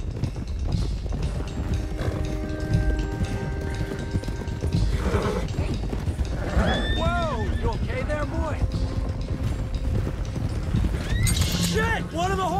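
Horses in Red Dead Redemption 2 gallop with steady clip-clop hoofbeats and let out repeated loud whinnies and neighs, layered over game music and shouting voices.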